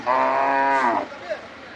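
A single Sindhi cow moos loudly and close by at a cattle market in Kundarapalli, one long low call lasting about a second, then quiet.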